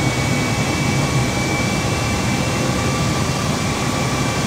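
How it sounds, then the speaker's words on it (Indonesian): A Super Air Jet airliner taking off in Microsoft Flight Simulator makes a loud, unbroken jet roar with a deep rumble and a faint steady whine, constant throughout with no talking. "ini adalah pesawat Super Airjet take off menuju Bandara Soekarno menuju Yogyakarta"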